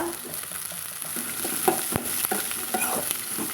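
Chopped green cowpeas (karamani) tipped into a hot frying pan for a Kerala-style kootu, giving a steady oily sizzle with scattered stirring scrapes and a sharp knock near the middle, with no talking.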